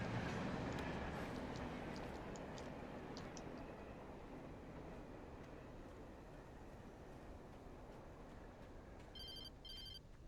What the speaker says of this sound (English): Train! I wonder if it's a darkness train.